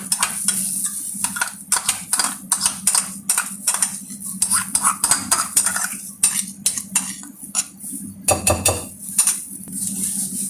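Garlic-ginger paste being mixed into chicken biryani in a metal pot, with repeated clinks and scrapes of a spoon against the pot over a low steady sizzle, close and busy throughout.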